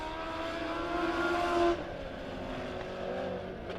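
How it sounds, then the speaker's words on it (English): Dirt track race cars at Springfield Raceway rolling past, a moderately distant engine drone that swells and then eases as the group passes, with a steady rumble continuing afterward. "next group of cars rolling"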